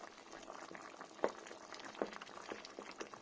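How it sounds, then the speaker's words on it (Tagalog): A simmering dish bubbles softly in a pot while it is stirred, with gentle liquid burbling and a couple of soft knocks, quiet and close. "At haluin natin."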